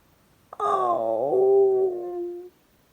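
A man reading a children's picture book aloud imitates a dog's howl with his voice, one drawn-out, wavering cry that slides down in pitch and fades out after about two seconds, alone and close.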